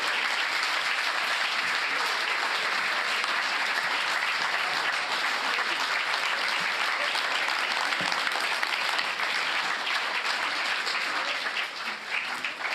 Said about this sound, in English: maybe another applause for the team and for the presentation.